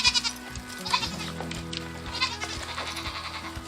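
Goats bleat repeatedly on a farm as dogs chase them, several quavering cries rising over a constant low engine-like hum and background noise, moderately distant and fairly quiet, with no talking.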